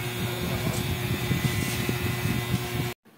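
Electric fan runs indoors with a steady whirring hum and a low mechanical drone, holding constant until it cuts off abruptly at the end.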